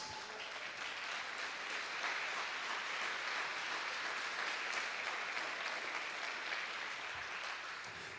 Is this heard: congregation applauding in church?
yes